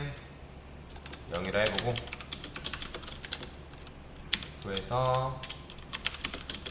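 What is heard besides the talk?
typing on a computer keyboard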